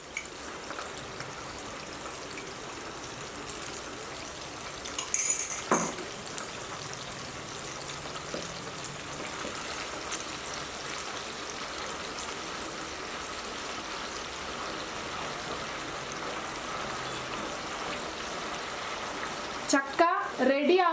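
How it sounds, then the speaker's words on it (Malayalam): Jackfruit chips fry in hot oil for a Kerala sadya, with salt water added, making a continuous sizzling crackle and a few louder pops and spits. "ഉപ്പ് വെള്ളം ചേർക്കുമ്പോൾ ശ്രദ്ധിക്കണം, ഒന്ന് പൊട്ടിത്തെറിക്കും"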